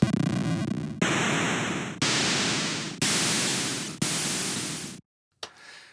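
FamiTracker noise channel notes, five hissy bursts struck one per beat, each starting loud and fading away before the next, followed by a short gap and a brief softer noise blip.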